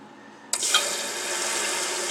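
A Mansfield toilet with a faulty flush valve starts refilling on its own: after a quiet moment a sudden rush of water kicks in and keeps running as a steady, hissing fill close by.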